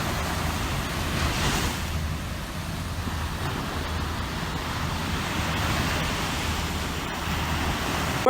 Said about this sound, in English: Because we on the beach.